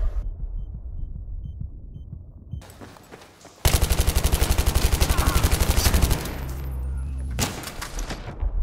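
Automatic gunfire from an online first-person shooter, a rapid steady burst of shots loud in the middle of the clip, with scattered single reports before and after.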